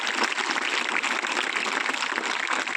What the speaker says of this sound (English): Let us all give them a big applause